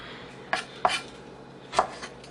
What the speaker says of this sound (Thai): หั่นแตงอยากหั่นจังใดก็หั่นนะจ๊ะตามใจชอบ